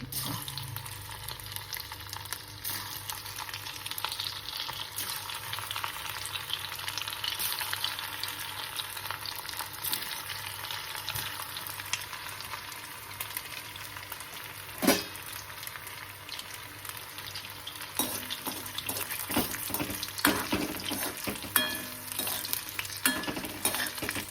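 Crisp bhaji made from leftover rice fry in shallow oil, a steady low sizzle and crackle running throughout with occasional clinks and scrapes of a utensil.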